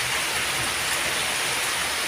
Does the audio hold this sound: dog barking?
no